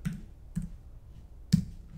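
Sharp computer mouse clicks while a pop-up is edited in a site builder, three distinct clicks spaced unevenly over two seconds, close and fairly quiet, with no talk.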